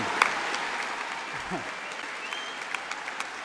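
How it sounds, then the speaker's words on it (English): An audience at a Labour Party conference speech applauds, a continuous wash of clapping from a large hall, moderately distant and even throughout, with a faint voice briefly over it. "I take it that applause was for Bill Shankly"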